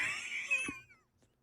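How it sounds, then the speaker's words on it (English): A man clears his throat once, close and fairly quiet, in a short voiced rasp that fades into near silence. "Pardon me, I had to clear my throat there."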